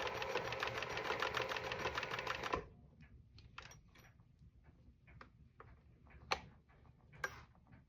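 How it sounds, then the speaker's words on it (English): An old Pfaff sewing machine running, giving a rapid, even mechanical ticking for a few seconds before stopping, followed by quieter clicks and handling sounds nearby. "it couldn't run straight, but now it's actually sewing straight."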